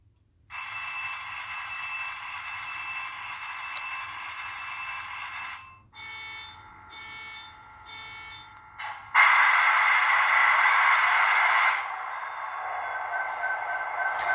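An Athearn SD70ACE model locomotive with a Tsunami 2 sound decoder runs its startup sequence: steady electronic tones shift through several stages, with a brief pulsing section and a louder burst of rising engine noise, heard alone.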